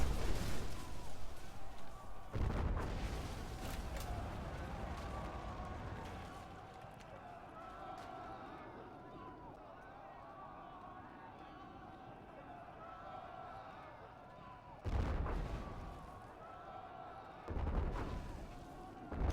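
Artillery shells pound an enemy base in the Rise of the Reds strategy game, with heavy booming bursts near the start and twice more toward the end over a steady battle rumble, while someone talks throughout.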